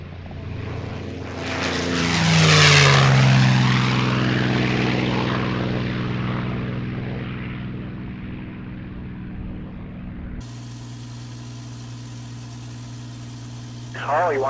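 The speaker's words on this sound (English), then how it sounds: "Mustang 1 Charlie Foxtrot, runway 3-4 right, clear for takeoff." A TF-51D Mustang propeller airplane taking off, its engine swelling to a loud close roar that sweeps past and then settles into a steady drone, with radio talk heard.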